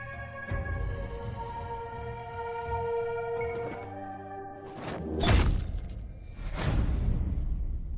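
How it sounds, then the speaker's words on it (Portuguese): A drinking glass shatters with one sharp crash in the middle of a sustained musical drone, and bright fragments ring briefly afterward before the music swells again. "Por que o copo quebrou?"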